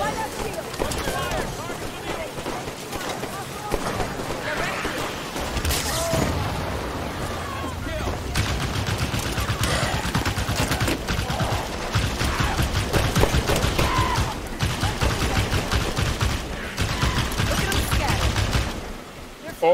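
Turret gunfire in Halo 5: Guardians, dense sustained bursts and booming shots mixed with explosions, loud and continuous under shouted voices.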